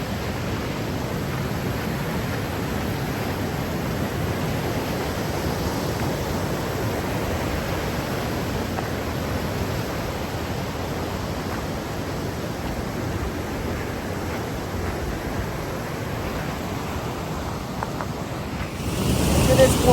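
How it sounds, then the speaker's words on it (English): River water roars steadily and close in light misty rain during a hike, a dense unbroken rush with no break in intensity and a louder gust near the end. "roaring water still intense."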